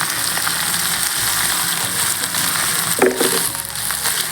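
Potatoes and raw green bananas frying in oil in a village kitchen, a constant close sizzle with a brief clatter of stirring near the middle, no voices.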